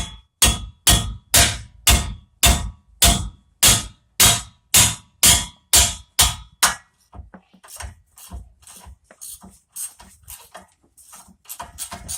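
Over a dozen sharp, evenly spaced hammer blows ring out loudly on metal during front brake work on a 2010 Chevy Suburban or Tahoe, then give way to lighter, quicker and more irregular taps.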